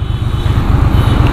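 Exhaust of a 2021 Triumph Street Twin BS6 twin-cylinder motorcycle idling nearby, a steady, loud, low throbbing burble with even pulses and no talk over it.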